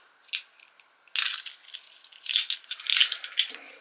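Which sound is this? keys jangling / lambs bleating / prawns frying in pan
keys jangling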